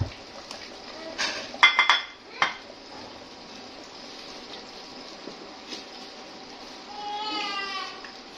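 Chicken nihari being dished out of a pot after the flame is turned off, with a few clinks and scrapes of a serving spoon against metal and a soft clatter of dishes, fairly quiet overall.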